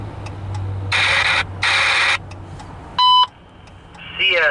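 CSX railroad defect detector alert heard over a radio: two bursts of static, followed by a short electronic tone and then a rising series of beeps.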